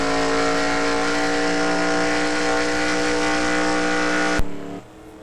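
A NASCAR race car in a video game, heard from onboard at Dover, with a loud, steady, high-revving engine drone held for about four seconds that then cuts off abruptly and drops to a quieter hum.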